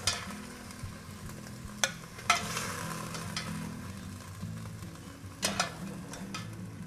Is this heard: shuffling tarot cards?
no